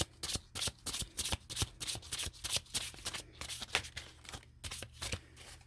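Tarot cards are shuffled by hand in quick repeated riffles, each a crisp papery burst in an uneven rhythm, close and fairly quiet, with no talk.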